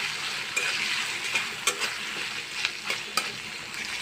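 Onion frying in hot oil with ginger and garlic paste added, a steady broadband sizzle with several sharp scrapes of a spoon stirring the pan, close and continuous with no talking.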